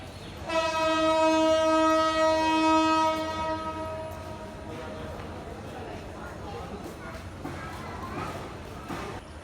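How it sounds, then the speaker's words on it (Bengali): A loud, sustained train horn blares for a few seconds at Cox's Bazar railway station, Bangladesh, then fades into station ambience with distant rumbling and people talking. "এইটা হলো পুরো রেলওয়ে স্টেশনটা একটা ট্রেন অলরেডি দাঁড়িয়ে আছে"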